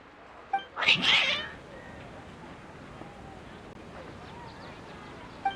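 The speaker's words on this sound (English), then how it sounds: "Your cats seem pretty worked up." A cat lets out one loud, harsh yowl near the start, then fainter cries follow over a quiet background hum.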